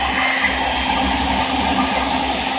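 A Shapeoko 3 CNC router finishes a carved hockey logo with a 1/16-inch ball mill, giving off a steady, loud, high whining hum that stays even and unbroken throughout.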